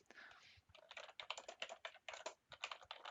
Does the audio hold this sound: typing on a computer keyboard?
yes